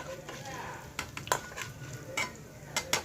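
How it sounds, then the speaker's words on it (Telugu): Ingredients frying in hot oil for a cucumber and coriander chutney, a soft sizzle under a few sharp stirring clicks and scrapes of a spoon against the pan, close and fairly quiet. "ఇప్పుడు వీటిని బాగా వేగనివ్వాలండి, మాడిపోకుండా చక్కగా వేపుకోవాలి."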